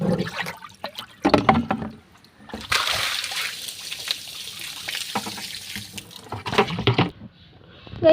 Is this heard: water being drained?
yes